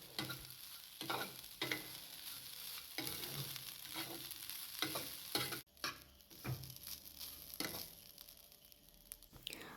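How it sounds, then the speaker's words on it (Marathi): Grated coconut roasting in ghee in a pan over a low gas flame, a soft steady sizzle broken by repeated stirring scrapes, close and quiet. "1 ते 2 मिनिट हा खोबऱ्याचा किस तुपामध्ये भाजून घ्यायचा"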